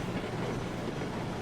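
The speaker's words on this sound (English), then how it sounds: "This is a pretty heavy train." A heavy train rolling in Railroads Online, with a continuous low rumble of wheels on track and rail noise, steady and fairly close, no talking.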